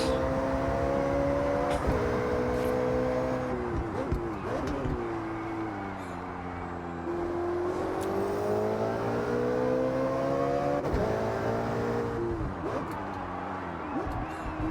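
A turbocharged car engine in the racing game Forza Horizon 6 revs up and down through several gear changes, a steady droning whine with rising and falling pitch, with someone speaking over it.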